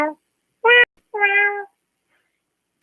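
A cat meows over a phone line on a call-in morning radio show, giving three short, clear, melodic meows separated by silence.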